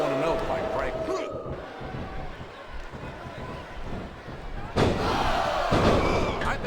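Virtual wrestling arena crowd from WWE SmackDown! vs. RAW during a 30-man Royal Rumble, a steady roar of cheering and noise that surges louder near the end, with commentators talking over it.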